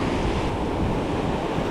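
Ocean waves break and wash steadily against a jetty at Port Aransas, Texas, a loud continuous roar of surf mixed with wind buffeting the microphone.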